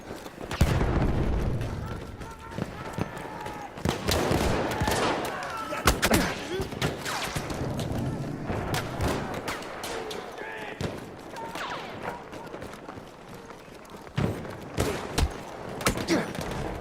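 Gunfire in the shooter game Battlefield 1: repeated sharp shots and booming reports in irregular bursts over continuous battle noise, with someone talking throughout.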